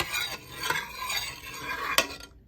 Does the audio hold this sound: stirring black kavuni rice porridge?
yes